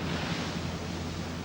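Heavy sea waves battering a wartime Royal Navy destroyer at speed, a dense, continuous roar of surf and wind noise with no pauses, close and loud.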